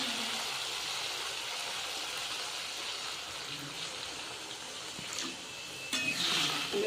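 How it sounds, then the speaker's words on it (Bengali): Water is poured into fried spices and oil in a pan for fish curry, giving a steady close splashing rush that grows a little louder near the end. "এবার দিয়ে দেবো জল।"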